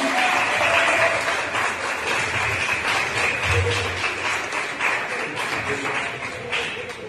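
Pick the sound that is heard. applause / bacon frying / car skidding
applause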